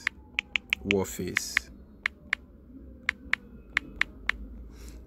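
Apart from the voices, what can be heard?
typing on a computer keyboard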